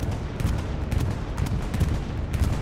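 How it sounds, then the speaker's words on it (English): A bombing run in the World War II shooter Hell Let Loose sets off dense, rumbling explosions and crackling bursts, a continuous barrage of heavy booms and sharp cracks with no voices over it. "Oh, it's a good bombing run, but it's not enough."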